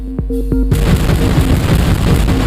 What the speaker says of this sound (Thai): อุ้ยระเบิด